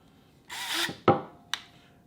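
A Ryobi drill runs at higher speed in a short, close whir lasting under half a second, followed by two sharp clicks or taps.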